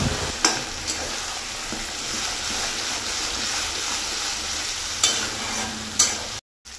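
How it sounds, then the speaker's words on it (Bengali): Ground elephant foot yam leaf paste stir-fries in hot oil with nigella seeds, a dense steady sizzle broken by occasional scrapes of a spatula, close and continuous. "তো একসাথে এবার সব কিছু আমি ভালো করে কষিয়ে নেব"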